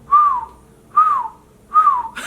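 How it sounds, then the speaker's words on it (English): Three light, breathy whistles sound in a row, each a short rising-then-falling note at an even, unhurried spacing, close and fairly soft. "Ooh, that was a light whistle."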